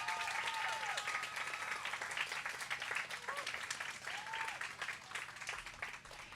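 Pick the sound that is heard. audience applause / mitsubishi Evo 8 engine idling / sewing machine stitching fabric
audience applause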